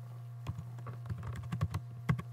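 Keystrokes on a computer keyboard while coding in Xcode, a quick irregular run of close, light clicks alone over a steady low hum.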